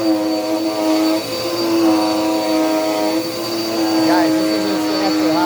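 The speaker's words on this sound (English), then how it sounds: "this is just actually how the motor sounds, really." A Dirt Devil Power Max vacuum cleaner motor runs loud and close, a steady high whine with strong tonal hum and airflow rush, pitch wavering slightly as it works.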